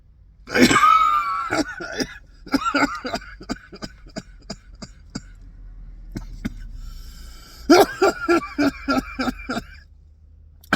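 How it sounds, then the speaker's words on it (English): A harsh coughing fit at close range: a heavy opening cough, then bursts of rapid hacking coughs with wheezy breaths between them. "Gotta cough this lung up."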